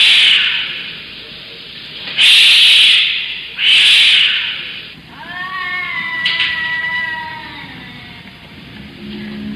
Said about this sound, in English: every night at 3 a.m., there are cats